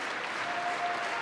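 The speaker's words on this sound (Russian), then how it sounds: "Спектакль заканчивается овациями." Theatre audience applauding after a performance, a brief steady wash of clapping heard from a distance, fairly faint and without voices.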